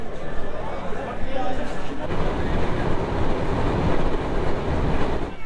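A passenger train pulls into Narail station in Bangladesh with a loud, close, broadband rumble and rattle of wheels on rails that thickens and grows heavier after the first two seconds and carries on steadily.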